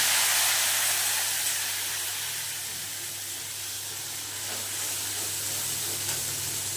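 Ground cumin, turmeric, coriander and chili powder fry in hot oil for a pointed gourd curry, giving off a loud, steady, broadband hiss that eases slightly after the first seconds.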